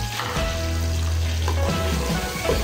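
Onion sizzling in a hot frying pan for mung bean stew, a steady loud crackle and hiss throughout with faint stirring clinks, close by and without talk.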